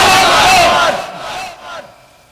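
A large crowd at an Islamic religious sermon roars a loud, unified takbir chant in response, the massed voices swelling at first and then fading away over a couple of seconds.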